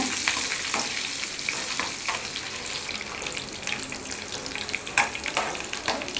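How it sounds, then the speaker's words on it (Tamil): Cashews, ginger and curry leaves fry in hot oil in a pan with a dense, steady crackling sizzle and frequent stirring scrapes, close and alone. "நல்லா முந்திரி கலர் சேஞ்ச் ஆகிற வரைக்கும் நல்லா வறுத்துக்கலாங்க"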